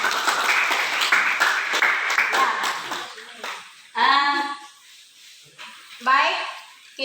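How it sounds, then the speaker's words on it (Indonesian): A grade VII classroom gives loud, brisk applause for about three seconds. Scattered children's voices follow in the pauses. "kita kasih tepuk tangan dulu untuk kelompok yang pertama"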